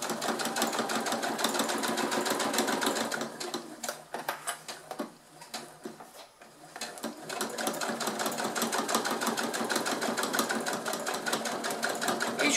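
Sewing machine stitching fabric, a rapid continuous mechanical whir that pauses briefly in the middle with a few clicks, then resumes at full speed, close and clear.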